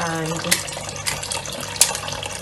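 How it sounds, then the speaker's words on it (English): Pieces of goat meat washed in water and vinegar, with steady running and splashing water in a kitchen and a few sharper clinks over it, while someone speaks. "I wash it in the vinegar. I like to give it more than one wash as well."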